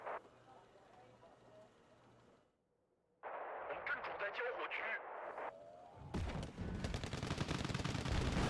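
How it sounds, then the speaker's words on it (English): A machine armor unit opens fire in a real-time strategy game, sharp rapid bursts of gunfire that start abruptly after a quieter stretch with a brief silence, then a louder barrage of firing near the end. "Now this guy's firing with that machine armor."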